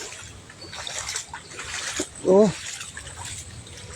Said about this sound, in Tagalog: Umapaw yung tubig dito sa amin